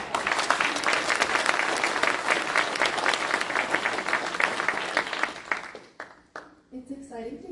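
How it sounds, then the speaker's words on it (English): Audience applause at a city State of the City event, a dense sustained burst of clapping from a large crowd that fades out near the end, where a voice begins speaking. "Let's give our staff a round of applause."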